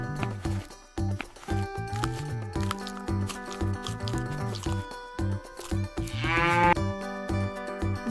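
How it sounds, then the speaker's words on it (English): A mountain goat gives a single short, rising bleat near the end, heard over steady rhythmic background music. "Mountain goats live in high mountains."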